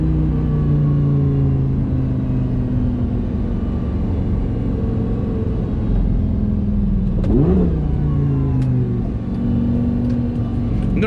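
A 2007 Lamborghini Gallardo coupe's 5.0L V10 with e-gear transmission accelerates while driving, giving a loud, continuous engine drone with a rising rev and brief shift midway over steady road rumble.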